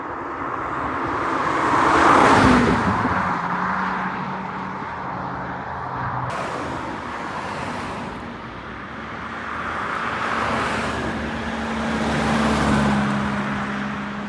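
Cars drive past one after another on a street during car spotting, among them a Citroën Traction, each engine swelling and fading in several broad whooshing passes with steady traffic rumble between and no talk.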